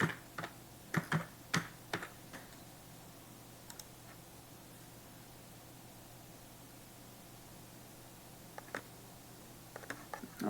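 Typing on a computer keyboard while programming in Python: a few quick bursts of close key clicks at the start and again near the end, separated by quiet room hiss.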